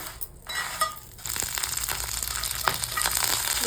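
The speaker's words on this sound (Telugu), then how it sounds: "బాగా అయితే కర్రగా వేయించుకోవాలండి ఈ విధంగా వేయించుకుంటే సరిపోతుందండి" Bitter gourd and curry leaves fry crisp in oil, starting with a few quiet stirring scrapes, then swelling into a dense, loud crackling sizzle that carries on steadily, close up.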